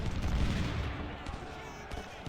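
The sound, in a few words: cannon artillery firing in video game Ultimate General: Civil War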